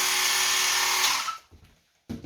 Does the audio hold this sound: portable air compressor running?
yes